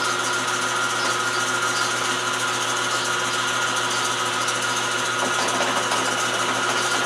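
A metal lathe spinning at 90 RPM while tapping a part for a Honda PA50, producing a steady mechanical hum with faint rubbing and whirring, constant and moderately loud.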